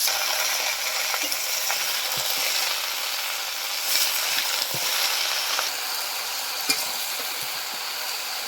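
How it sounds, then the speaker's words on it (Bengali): Chopped greens sizzling and frying with browned onions in a pan, a steady broad hiss running throughout with occasional clinks and scrapes of stirring, close and moderately loud, no voices. "তারপরে এইবার ওই শাক কাটা ছিল ওইগুলো দিয়ে দিচ্ছি"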